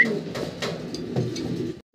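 Pomeranian pouter pigeons in Andalusian colouring coo in low, throaty, repeated notes, close and moderately loud, with no talk.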